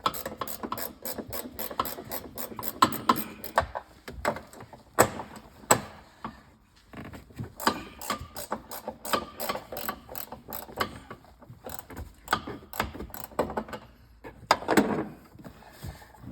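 A hand ratchet clicks rapidly, in bursts with short pauses, while loosening the 15 mm top strut nuts on a 2011-2019 Dodge Journey during strut replacement; the sound is close and crisp.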